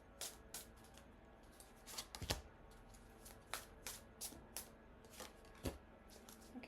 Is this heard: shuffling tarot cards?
yes